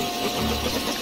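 A vacuum cleaner in the Paddington Bear video game, a steady mechanical drone that stays even and fairly loud for its short length.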